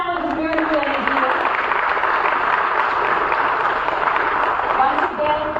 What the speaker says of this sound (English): Ladies and gentlemen, let's clap for this beautiful energy.